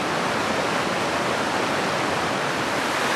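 A wild Austrian mountain stream rushes in a constant, dense, loud roar, close and unbroken, with no voices.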